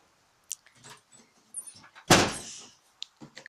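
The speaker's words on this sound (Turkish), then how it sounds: "Ben bir kapıyı kapatayım." A door shuts in a home with a single loud, broad thud midway, set among scattered small knocks and household shuffling; no talking.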